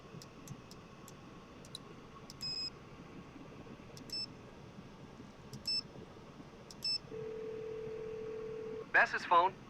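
A phone ringing in the Nancy Drew: Ghost of Thornton Hall video game gives a series of short, evenly spaced electronic chirps, then a sustained tone and a brief final burst, all fairly faint over a quiet background.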